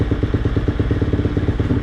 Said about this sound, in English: And my Honda CRF here is fun too, a trail bike, not quite.